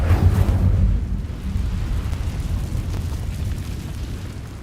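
Incendio fire spell cast in Hogwarts Legacy, a loud whooshing burst at the start that fades into a low rumbling crackle.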